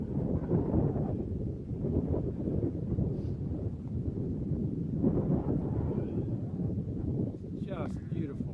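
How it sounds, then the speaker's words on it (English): Strong wind roaring across a mountaintop on the Appalachian Trail, buffeting the microphone in a constant low rumble with gusts that swell and ease, a voice speaking briefly beneath it. "It's real windy."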